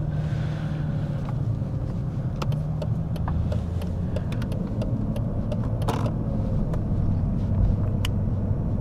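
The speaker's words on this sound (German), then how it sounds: "Wir haben hier ein S500 mit dem V8, 5 Liter V8." A Mercedes-Benz W220 S500, about twenty years old, with its 5-litre V8, heard from inside while driving as a steady low engine and road hum with occasional faint clicks and ticks.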